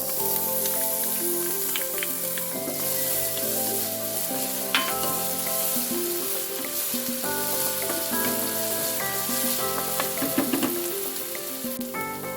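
Sliced potatoes fry in a hot pan with a loud, continuous sizzle and crackle, stirred now and then, while background music plays underneath.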